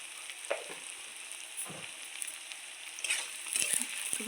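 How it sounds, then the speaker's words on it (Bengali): Onions frying in a pan for chicken biryani, a soft steady sizzle with a few light stirring scrapes, fairly quiet and close, no voices. "এই পেঁয়াজ ভাজাটা আরেকটু ভাজা হবে, এখনও ঠিক মতন ভাজা হয়নি"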